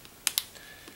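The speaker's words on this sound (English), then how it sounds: "Chiclet keyboard, has got a definite click to all this" Keys clack sharply on the Chiclet keyboard of an Accuset 2, two crisp close clicks in quick succession followed by fainter taps in a quiet room.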